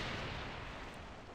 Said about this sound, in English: Boom, boom, boom! Explosion.